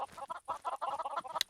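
Chickens cluck in DawnCraft, a close run of quick, choppy clucks in short bursts with brief gaps, ending on a sharper squawk; no one speaks.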